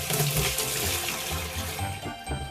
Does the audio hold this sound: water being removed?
yes